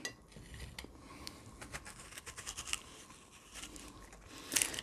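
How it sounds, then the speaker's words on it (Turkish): A spoon scrapes and chops a quince, giving soft, quiet scratches and small clinks, with one sharper metallic scrape near the end and no talk. "kaşıkla bu şekilde doğrayıp"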